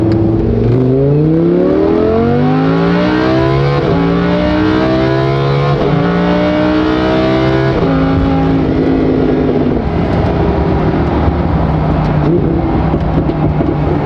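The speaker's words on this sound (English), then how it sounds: "A fully straight piped Lamborghini Huracan." A loud Lamborghini Huracan engine with straight-piped exhaust revs hard again and again, pitch climbing and falling with each throttle blip, a raw, unmuffled roar up close.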